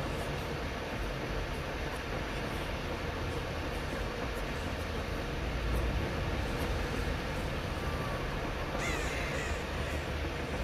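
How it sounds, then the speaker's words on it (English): Crows caw in Dead by Daylight against a constant rushing ambient noise, the calls faint and sparse rather than standing out, with a brief sharper sound near the end. "Shut up, birds."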